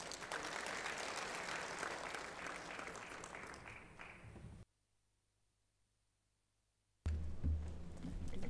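Audience applause from a seated group at a school leadership discussion event, a dense steady patter that cuts off abruptly into silence, then returns briefly.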